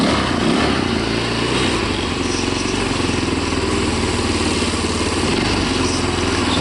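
A Tao Tao ATA150G automatic ATV with a no-start problem, leaking gas and a skipping chain runs close by, its small engine holding a steady, even, sputtering idle the whole time without talk.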